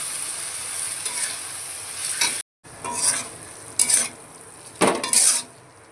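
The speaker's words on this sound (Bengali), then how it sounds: "এবার সব মশলাকে একসঙ্গে কষিয়ে নেব" Salt, turmeric and Kashmiri chili powder fry in hot oil in a pan, giving a close, steady sizzle broken by a brief silence and several louder bursts of stirring scrapes.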